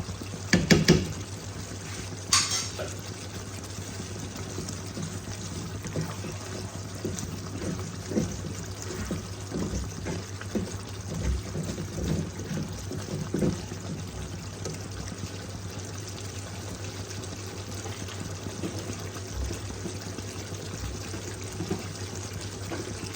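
Ghee poured into a pan while cooking potoler dorma, a soft liquid pour and trickle under a constant low kitchen hum, with a few clinks near the start and no voices.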